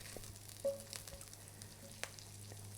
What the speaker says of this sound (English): you'll hear the gentle sizzle, and you can see it frying gently there